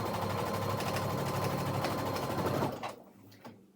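A sewing machine runs steadily while stitching quilt pieces, a close, continuous rapid mechanical whir with fine rhythmic clatter that stops abruptly near the end, leaving a couple of faint clicks.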